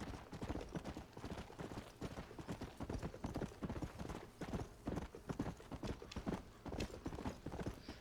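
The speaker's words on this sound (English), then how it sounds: "you just got horses going by all the time" Horses' hooves clip-clop steadily past in Red Dead Redemption, a quick, continuous patter of many hoofbeats at low, even level with no talk over it.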